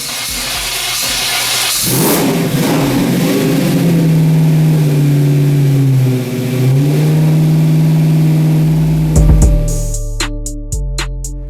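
A 1940 Chevy engine fitted with FiTech fuel injection cranks, catches and revs up, holding a loud rising and falling roar before settling and cutting off with a few clanks at the end.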